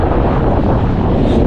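Strong headwind batters the microphone of a gravel bike ridden along the Breton coast, a loud, steady roar that rumbles without pause for the whole moment.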